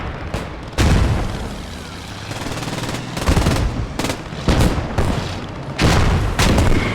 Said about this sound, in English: MG42 goes brrrt